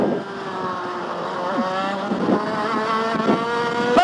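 An IAME Parilla kart engine accelerates on a track, a high, buzzing two-stroke whine climbing steadily in pitch with brief dips between pulls, loud and close throughout.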